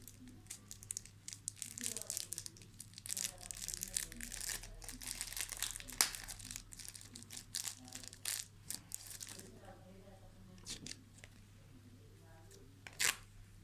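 Foil wrapper of a football trading card pack is crinkled and torn open, with close, crisp rustling and crackling bursts, and someone speaking softly at intervals.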